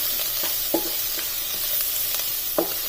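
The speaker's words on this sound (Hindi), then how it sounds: "अब लास्ट में इसमें हरी मिर्चें, हरा धनिया और इसे मिक्स कर लेना" Chicken is stirred with green chillies and coriander in a hot pan, making a steady, fairly loud sizzle punctuated by a few soft scrapes of the spoon.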